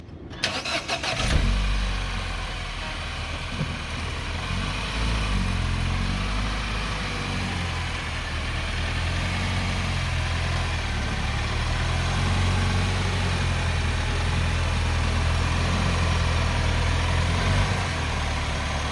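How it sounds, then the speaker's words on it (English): A car engine cranks and catches, then settles into a steady, fairly loud idle with a low rumble that continues throughout, before being driven up to a Blue Ox flat-tow hookup. "I'm going to drive the car up closer to the hookup point"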